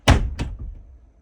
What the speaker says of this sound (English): first off, listen how loud that is. If I just close the door,